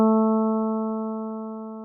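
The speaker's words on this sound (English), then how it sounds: "A string stretched tight between two fixed points" A single taut string stretched between two fixed points is plucked once and rings a clear, steady pitched note with bright overtones, fading slowly, close and alone.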